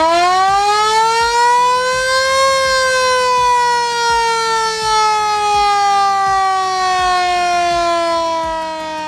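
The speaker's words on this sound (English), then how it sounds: "the rarest part to try to find on this truck would have to be the federal siren" A vintage Federal siren mounted on a nostalgic truck wails loudly and steadily, its pitch climbing then slowly winding down, with a faint rhythmic mechanical ticking beneath.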